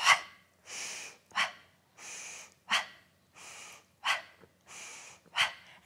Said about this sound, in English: Pump that breath.